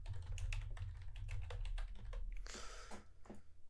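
Brisk typing on a computer keyboard while building a WordPress site, a dense run of close, distinct key clicks with a brief rattling burst near the end and no voice.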